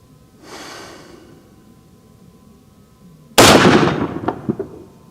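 A Ruger M-77 Hawkeye African rifle chambered in 416 Ruger fires a single loud, close shot with a sharp crack and a ringing tail, preceded by a faint softer noise.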